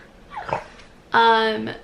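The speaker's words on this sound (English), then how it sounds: "My dogs were being brats, so I had to pick one up." A dog whimpers close by, a brief soft whine followed by a louder, drawn-out tonal whine, with a person talking around it.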